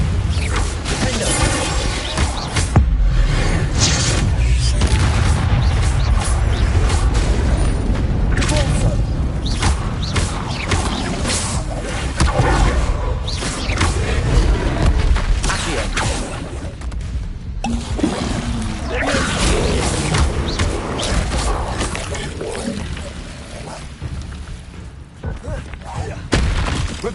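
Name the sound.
Bombarda blasting spell explosions in the video game Hogwarts Legacy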